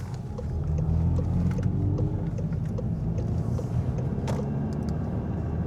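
A Mitsubishi Evo 9 wagon with a steady engine rumble rolls past close by, the drone rising and then holding at a constant loudness for several seconds, with no talking.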